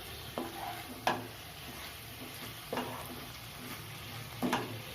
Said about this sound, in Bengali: ঢাকাটা খুলে আবার একবার মিশিয়ে নিচ্ছি।